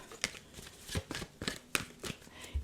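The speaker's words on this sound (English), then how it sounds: "I've been shuffling that whole time." A tarot deck is shuffled by hand in a series of about eight crisp riffling, slapping card bursts at an uneven pace, close and fairly quiet, with no talking.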